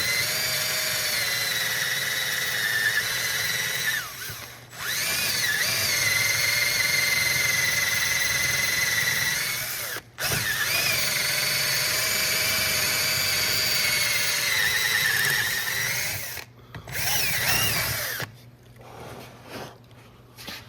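A drill bores into a stuck rear ABS wheel speed sensor on a 2013-2017 Honda Accord, whining at a steady high pitch in long runs, broken by brief stops and a choppy stop-start stretch near the end.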